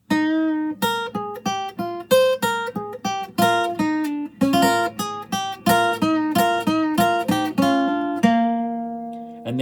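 A clean electric guitar plays a choppy staccato riff of short, clipped notes and double stops, ending on a held bend, with no voices.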